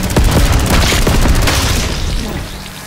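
Loud rapid bursts of popping gunfire from a miniature gun during a staged action scene, crackling rounds tumbling together before fading into echo.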